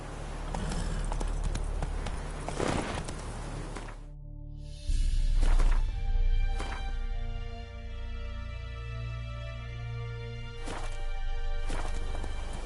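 Horse hooves clip-clop steadily on the ground in The Witcher 3, a close, rhythmic trot with occasional sharper knocks and a brief pause midway before the hoofbeats resume, under a low humming ambience.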